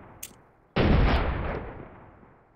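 A single shot from an M1918 Browning Automatic Rifle in semi-automatic mode in the World of Guns simulator: one sharp, loud report with a short booming tail, preceded by a faint click.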